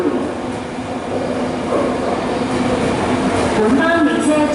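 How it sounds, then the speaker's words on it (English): A Hong Kong MTR train to Lok Ma Chau rumbles into a station, the steady roar swelling as it nears, with a public announcement voice speaking over the noise. "The train for Lok Ma Chau is approaching."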